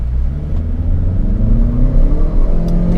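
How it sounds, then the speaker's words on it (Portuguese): A Chevrolet Cruze LTZ launches hard from a brake-stand start, its engine roaring loud and close inside the cabin and rising steadily in pitch as it accelerates. "Eu vou fazer aquela largada estolada, onde eu piso no freio e acelero para que o carro saia com o máximo aí de força"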